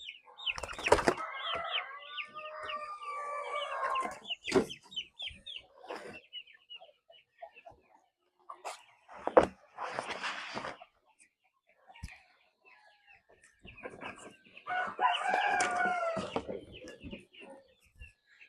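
Chickens on a backyard farm, including silky chicks and Bulwark breeders, with scattered nearby clucks, wing flaps and rustling in bursts separated by quiet gaps.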